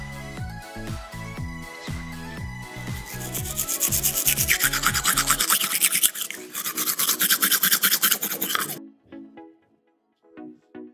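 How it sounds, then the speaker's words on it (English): Toothbrush scrubbing teeth, a steady close rasping back-and-forth brushing that grows brighter and busier midway, then stops abruptly, followed by a couple of faint short sounds. "Oh, he is brushing his teeth."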